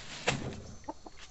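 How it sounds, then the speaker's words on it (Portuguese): Chickens on a Brazilian farm with a pumpkin patch give a few soft clucks close by, brief and low against quiet rustling background noise. "Ó, Silva, e as galinhas, ó"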